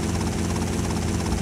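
A small propeller plane engine drones steadily in GTA Vice City Stories, a dense, constant broadband roar with no talk.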